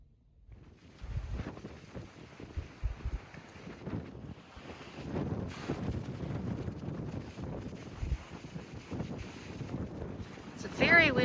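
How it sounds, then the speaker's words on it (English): Intense wind buffeting the microphone outdoors at the Lost Dutchman Campground in Arizona, gusty low rumbles rising and falling throughout, fairly faint overall with some footsteps or movement mixed in. "There is some intense wind outside here."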